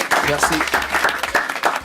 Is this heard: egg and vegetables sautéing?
no